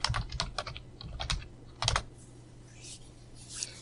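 Python code being typed on a computer keyboard: bursts of quick, close key clicks at first, then sparser taps trailing off into quiet.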